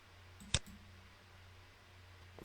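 A single sharp computer mouse click sounds once, close and quiet, against a faint low background hum, with no talking.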